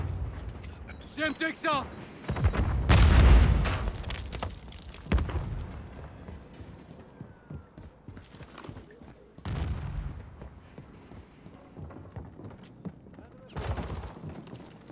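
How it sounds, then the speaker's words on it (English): Stun grenade going off in Modern Warfare III multiplayer, a sharp loud blast amid gunfire and game noise, with a voice callout heard in the mix. "Stun grenade out."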